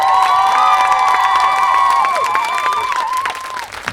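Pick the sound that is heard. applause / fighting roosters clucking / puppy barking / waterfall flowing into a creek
applause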